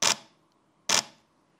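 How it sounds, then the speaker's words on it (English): A Canon 1DX Mark III's mechanical shutter fires twice in live view single-shot mode, each a crisp close mechanical snap with a short fading tail, spaced under a second apart in quiet surroundings. "we are looking at the shutter sounds of 1DX Mark III's live view mode and the mechanical shutter"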